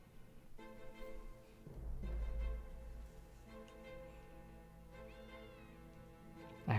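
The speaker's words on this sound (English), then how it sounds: "I heard the cat." In the video game Tales of Arise, a cat meows several times over a soft, sustained tonal background, with a low thump midway and no speech.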